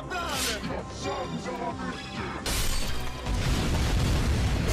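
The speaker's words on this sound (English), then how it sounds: "Green screen explosion." Animated-video explosion effect: a loud burst of broadband noise erupts midway and rumbles on to the end, following a stretch of music and voices that carry the first half.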